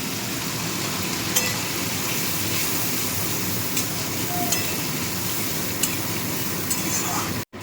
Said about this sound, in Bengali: ঝোলটা ফুটছে এখন।